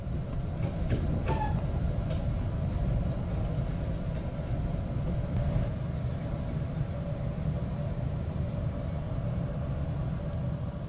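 An Amtrak Capital Corridor train rolls past the Oakland rail yard, heard from aboard as a steady low rumble of wheels and carriage noise with faint clicks and no talking.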